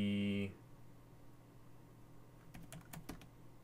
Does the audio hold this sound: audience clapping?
no